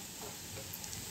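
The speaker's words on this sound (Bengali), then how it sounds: "তো বন্ধুরা, আমি একটু বড়াগুলো উল্টে দিচ্ছি" Fish-oil fritters sizzling quietly in a pan as they are gently turned over, a soft continuous crackle lasting only a moment.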